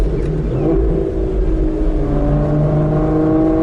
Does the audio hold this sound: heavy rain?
no